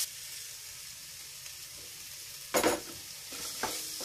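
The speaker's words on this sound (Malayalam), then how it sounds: "അപ്പം നല്ലതുപോലെ ഒന്ന് വഴറ്റി വന്നിട്ടുണ്ട്" Tomatoes sautéing with spice powders in a pan for a soya chunks roast, a soft continuous sizzle with a couple of louder stirring scrapes and bursts of frying, close by, with no talking.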